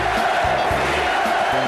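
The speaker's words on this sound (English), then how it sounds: "You hear the crowd chanting to the Sixers? Beat LA." Crowd noise from a Boston Garden crowd at an NBA conference finals Game 7, a loud, dense roar of many voices with rhythmic chant-like swells, close and steady throughout.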